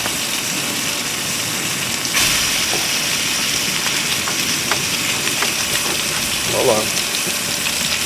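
Kosher-salted lamb chops sizzle in a cast iron skillet, a constant loud hiss near the pan with a few sharp pops, while a voice briefly speaks.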